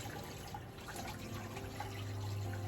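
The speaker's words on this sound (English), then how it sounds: "So now I'm gonna add some little water." Water pouring into a soup pot holding chicken, a faint, steady trickling and splashing stream with a low hum beneath, heard at close range with no speech.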